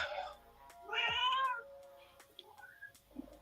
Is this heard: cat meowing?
yes